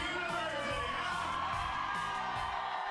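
A huge crowd of girls cheering and screaming at a Trevor Donovan meet and greet in Leeds, England: dense, loud, continuous high-pitched whoops and shrieks, close and unbroken, with voices shouting over one another.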